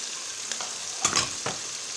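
Tomatoes and spices frying in a pan give a steady close sizzle, with a few brief stirring scrapes breaking through.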